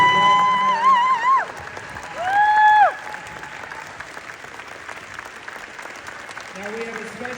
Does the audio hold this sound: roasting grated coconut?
no